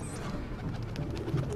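Soft pigeon cooing in the Assassin's Creed 2 game: low, muffled coos over a steady ambient background, close and fairly quiet, with no voices.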